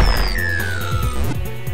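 A Metroid enemy's dodge effect in the game AM2R: a loud, quick synthetic swoop that slides downward in pitch over a rumbling, crunchy game backdrop, lasting under two seconds.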